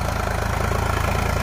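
A Sonalika DI 745 tractor engine runs while pulling a plough, a loud, close diesel chugging with a steady rapid pulse and no voices.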